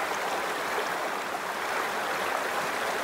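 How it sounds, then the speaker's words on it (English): Mountain creek gushing out of a spring in the side of Keel Mountain, Alabama, a steady close rushing and burbling of water with no voices. "And here the creek comes right out of the side of the mountain."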